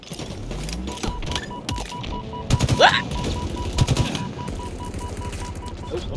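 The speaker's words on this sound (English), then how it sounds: "Nothing satisfies like a 3-round burst" Three-round burst rifle fire in a first-person shooter: several sharp clusters of rapid shots crack out near and loud, with a brief rising whine between bursts, amid other game sounds and no talk.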